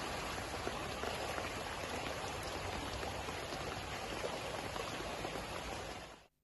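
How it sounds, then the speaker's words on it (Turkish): Heavy downpour pounding city streets and sidewalks, a dense steady roar of rain with water pooling, continuous and loud throughout before cutting off abruptly at the end, with no voices. "Bir anda bastıran sağanak sebebiyle bazı cadde ve sokaklarda su birikintileri oluşurken"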